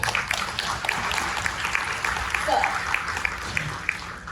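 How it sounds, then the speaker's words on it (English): An audience at a leadership talk claps in steady, sustained applause, a dense crackle of many hands that carries on for several seconds at fairly even loudness. "So just, a round of applause to you guys."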